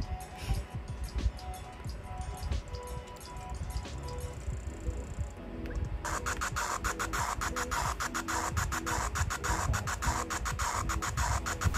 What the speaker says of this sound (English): we could record our own metronome noises